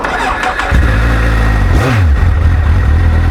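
A 2009 Kawasaki Z1000 engine with quadruple exhaust cans revs loud and close, climbing sharply from a steady idle and settling back into a throaty rumble.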